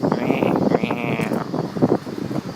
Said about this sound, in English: It's this large beetle, and when it gets too hot, it makes that noise.